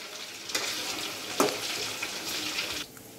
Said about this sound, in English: We are deep frying.